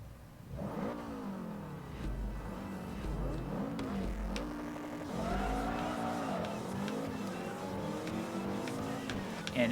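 Race cars in Forza Motorsport 3 rev and accelerate through gear changes, with the engine tone rising and falling repeatedly and tires briefly squealing, loud and continuous.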